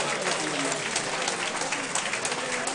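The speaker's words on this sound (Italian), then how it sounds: "Facciamo un bel applauso a Marco e Rick." Audience applause for the performers Marco and Rick at a dinner comedy night, steady dense clapping filling the whole stretch at moderate loudness, with crowd murmur mixed in.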